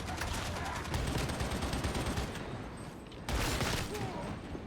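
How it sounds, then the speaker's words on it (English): Autocannon fire in the video game Darktide, a dense, rapid string of heavy shots with a brief pause before another burst, loud and close. "it does like 500 damage per shot because it's pretty much an autocannon"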